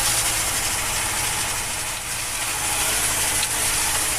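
A T-25 tractor engine runs in winter with a continuous loud, rattly drone and hiss, close and steady, with no voices.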